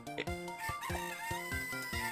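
A chicken crows in The Legendary Starfy, a synthesized rooster-like call repeating in short rhythmic bursts over game music, close and clear with no talking.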